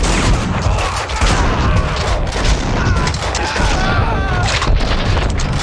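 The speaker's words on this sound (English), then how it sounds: "Someone must have heard the gunfire." Gunfire and booming explosions from the video game Max Payne 2, a dense continuous barrage of shots and crashes that stays loud throughout with little letup.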